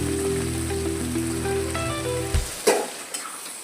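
Cooked vegetables for pav bhaji stirred and fried in masala, a steady close sizzle with a few louder scraping stirs near the end and no talking.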